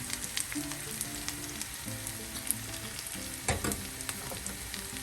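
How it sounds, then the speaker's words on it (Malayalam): Green bitter gourd (pavakka) frying in a pan, with a continuous soft sizzle and crackle and a couple of brief stirring scrapes, moderately quiet and close, no voices. "തുറന്ന് വെച്ച് നമുക്ക് ഒരു അഞ്ച് മിനിറ്റ് കൂടെ ഫ്രൈ ചെയ്ത്"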